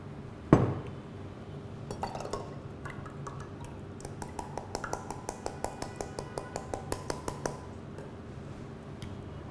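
A spoon stirs a pink grapefruit-syrup drink in a glass, starting with one sharp clink and then a quick, even run of bright tinkling taps against the glass.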